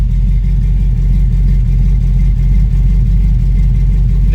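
A 1994 Sonoma pickup's V8 idles after a cold start, with a mild cam and no thermostat, giving a steady, loud, low rumble with a slightly lopey pulse throughout.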